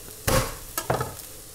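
Swiss chard just set into a hot pan for a trouchia, with two short bursts of sizzling and a light scrape of stirring, close by and brief, no talking.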